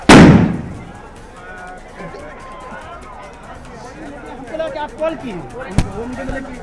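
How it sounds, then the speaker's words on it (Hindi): A sharp blast opens loudly, followed by scattered pops and crackles of fireworks over a noisy crowd at a Janata Dal United office election-result celebration in Bihar, with another sharp bang near the end. "तो देखिए, ये आतिशबाजी हो रही है और आतिशबाजी की आवाज आप सुन रहे होंगे।"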